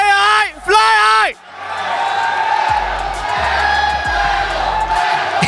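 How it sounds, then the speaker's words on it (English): A large arena crowd at the MLBB M6 World Championship esports event roars and cheers in a sustained wall of noise, after a loud shouted chant up close, with thumping beats underneath. "It's a very heavy crowd right now."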